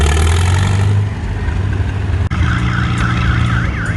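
A loud alarm wails over a rumbling tractor engine at a tractor pull, its tone rising and falling in steady cycles.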